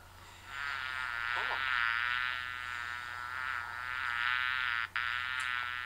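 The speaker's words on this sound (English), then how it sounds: "But that's the bumblebee." A steady, droning buzz of a bumblebee hovers close by for several seconds, wavering slightly in pitch, with a brief break near the end.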